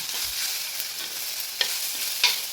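Tomatoes sautéing in a pan for karakozhambu, a steady broad sizzle with a couple of sharp spoon-against-pan scrapes as they are stirred, close and moderately loud, no talking.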